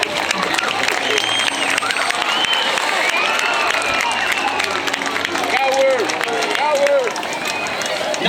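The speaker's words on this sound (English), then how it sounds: "Yourselves a round of applause." A crowd at the SeaWorld San Diego Orca Encounter show applauds and cheers in a wide outdoor stadium, with shouts and voices mixed into the steady clapping.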